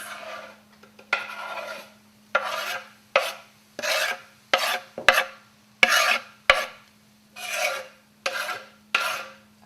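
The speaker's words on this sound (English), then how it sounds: "just stir that in and let it sit for a few moments" Fresh herbs stirred into fried rice, heard as a steady rhythm of about a dozen rasping scrapes of a utensil across a pan, each lasting under a second, close and distinct with no talk.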